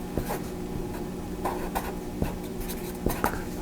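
A pen scratches across paper in short, irregular strokes and taps, close and fairly quiet, with no voices.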